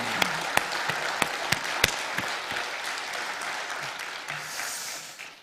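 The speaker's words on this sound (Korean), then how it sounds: "박수로 하나님께 영광의 박수 올려드립니다." A church congregation applauds during an Easter Sunday worship service in Incheon: dense, steady clapping from many hands fills the room, with a few sharp individual claps standing out, before the applause fades away at the end.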